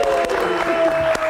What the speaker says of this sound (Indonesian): kita kasih tepuk tangan sekali lagi untuk Mas Indra.